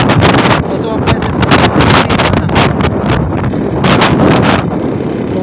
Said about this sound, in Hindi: बहुत ही तेज़ हवा चल रही है, बहुत ही ज़्यादा तेज़ हवा